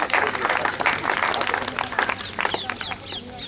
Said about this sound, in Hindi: इनके लिए, मैडम के लिए एक बार जोरदार तालियां।